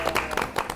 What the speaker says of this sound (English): Stop the clapping.